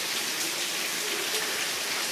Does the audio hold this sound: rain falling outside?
yes